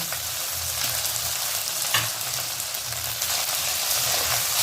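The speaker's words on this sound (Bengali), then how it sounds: "এবার আমি এতে চালটা আস্তে আস্তে অ্যাড করে দেবো।" Rice sizzles and fries in a pan over a very low flame for basanti polao, with raisins already in the pan. A steady, close hiss continues throughout.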